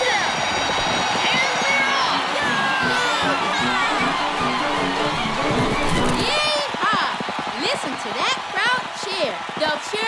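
Cartoon race crowd of animal racers' fans cheering and whooping loudly and continuously, with excited shouts rising and falling, under overlapping voices.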